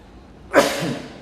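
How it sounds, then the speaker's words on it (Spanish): A single close, loud human sneeze bursts out abruptly and trails off into a breathy exhale. "voy a estornudar"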